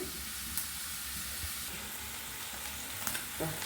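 Curry sautéing in a pan gives a steady, faint frying sizzle and hiss with a few light clinks of stirring, heard close and alone.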